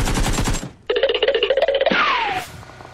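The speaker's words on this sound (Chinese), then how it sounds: "有枪声，没错，就在高大的老窝。" Gunfire in a battle royale video game, a rapid burst of automatic shots followed by a second fast volley and a fading ringing tail, loud and close with no talk.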